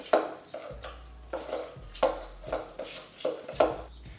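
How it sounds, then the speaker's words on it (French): A fork and spoon mash and stir sweet potato in a bowl, making a rhythmic series of close clinks and scrapes about every half second, with no talking. "vous prenez une bonne cuillère de patates douces et vous mettez et vous mélangez avec énergie"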